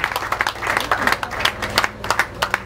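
Congregation in a church applauds with steady, rhythmic clapping from many hands, fairly close and continuous, with voices faintly underneath.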